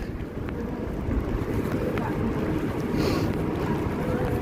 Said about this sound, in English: So much wind out here